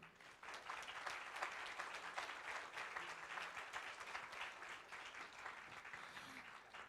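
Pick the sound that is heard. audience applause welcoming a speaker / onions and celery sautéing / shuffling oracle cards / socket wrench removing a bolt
audience applause welcoming a speaker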